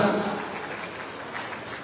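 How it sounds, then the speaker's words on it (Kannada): An audience at a BJP party meeting in Govindarajanagar applauds steadily at moderate volume throughout. "ಮತ್ತೊಮ್ಮೆ ಚಪ್ಪಾಳೆ ಮುಗಿನ ಸಾಕ್ಷಿಯಾಗೋಣ"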